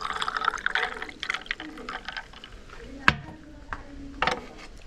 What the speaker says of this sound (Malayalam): ഇത് നമ്മുടെ ക്യാരറ്റ് ഒഴിക്കുകയാണ്